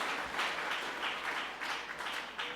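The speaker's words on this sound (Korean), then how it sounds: "우리 한번 박수 쳐주겠습니다." A church congregation of adults and children at a Christmas service applauds together, a soft, steady patter of clapping heard from a distance for a couple of seconds.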